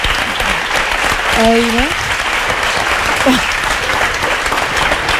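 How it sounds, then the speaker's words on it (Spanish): A television studio audience keeps up a broad wash of clapping while a nearby voice speaks over it in short phrases. "vamos a darle un aplauso"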